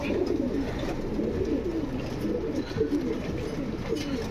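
Pigeons at a Bangalore sale cooing steadily, overlapping soft throaty coos repeating close by in a continuous murmur without a break.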